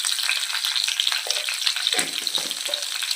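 Garlic, curry leaves and spices sizzling in hot oil for a Telugu gongura coconut chutney, a steady close crackle with brief bursts of spattering as ingredients hit the pan, no voices.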